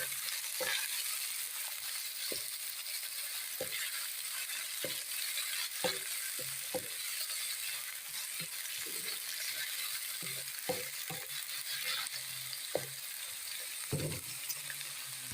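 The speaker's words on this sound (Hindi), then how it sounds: "अब इसके अंदर शामिल कर देंगे प्याज जो हमने इधर काट कर रखा था" Chopped onions fry in hot oil while being browned for a spiced liver (kaleji) dish, with a soft, continuous sizzle broken by scattered clicks and scrapes of stirring.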